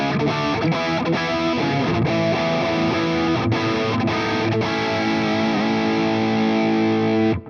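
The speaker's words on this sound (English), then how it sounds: "Right now we're on the high gain amp" A guitar runs fully dry through the high gain amp model of a Boss IR-2 pedal, giving a thick, saturated distorted tone with sustained chords and a few sharp stops, loud and steady throughout with no talking.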